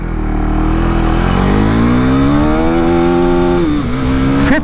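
A 2024 KTM Duke 390 motorcycle engine revs loud and close, its pitch climbing steadily through a gear, then a quick dip at a shift before it climbs again.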